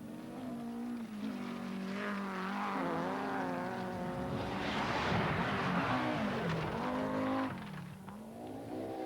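A turbocharged 2.2-litre five-cylinder 330 horsepower Audi Quattro rally car races downhill, its engine revving and changing pitch through gear changes, with a rushing, gravelly burst in the middle, loud and near.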